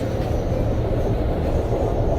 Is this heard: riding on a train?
yes